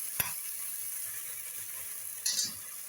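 Onions go into a hot pot for a stewed kebab dish and sizzle with a soft, steady hiss, marked by a sharp click at the start and a brief louder spit near the end.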